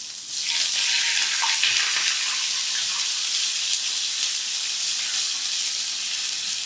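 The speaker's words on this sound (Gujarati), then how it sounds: "હવે આમાં પાણી વઘારી દેવાનું." Water poured into a hot cumin tempering with green chili and asafoetida bursts into a loud, steady hissing sizzle after a brief quiet start, holding broad and close for several seconds with faint clinks.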